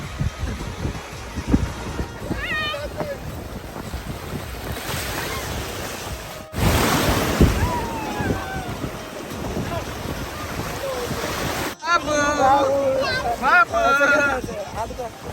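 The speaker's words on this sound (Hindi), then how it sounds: "लहरा एकदम तेज है यार" Strong sea surf breaks and washes steadily on the beach at RK Beach in Visakhapatnam, loud and continuous with wind buffeting the microphone, while people talk over it.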